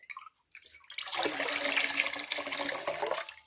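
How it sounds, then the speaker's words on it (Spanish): Water poured from a teapot into a vessel, a soft trickle that swells into a steady splashing stream lasting a few seconds, heard close and alone. "Vamos a empezar trasvasijando agua con esta tetera."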